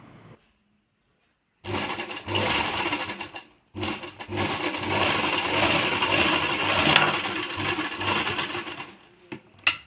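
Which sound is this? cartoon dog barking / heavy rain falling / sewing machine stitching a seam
sewing machine stitching a seam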